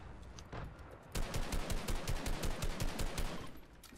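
Rapid automatic gunfire in the video game Fortnite during a squad match, a dense burst of regularly spaced shots starting after a quieter stretch and running steadily to the end, fairly loud with no talk over it.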